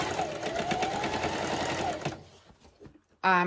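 A Singer Heavy Duty sewing machine stitches at a steady, fast rhythm, close and fairly loud, for about two seconds before stopping. A short, sharp rattling sound follows at the end.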